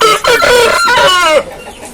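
A loud Aseel chicken on a farm, recovering from treatment of a boil, gives a drawn-out, strained call up close, a single vocalisation lasting over a second before fading to quiet.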